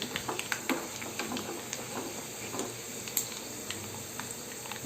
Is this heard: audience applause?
no